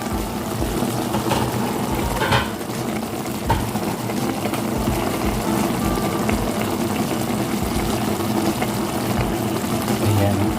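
Saluyot soup bubbling in a pot, a steady, close, fairly loud boiling and churning texture that runs throughout without break.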